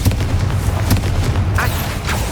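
A Bombarda blast spell goes off in Hogwarts Legacy: a deep, rumbling boom with a sharp crack at the start, followed by a lingering low roar and a couple of lighter magical whooshes.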